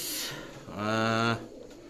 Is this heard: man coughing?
no